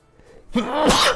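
A single close, loud human sneeze: a short sharp intake followed by a broad, breathy explosive burst lasting about half a second.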